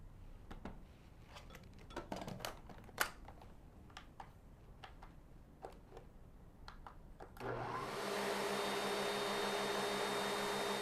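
A food processor starts up at about seven seconds and churns tahini, giving a loud, steady motor whir that lasts to the end. Before that come scattered clicks and knocks from scraping the bowl.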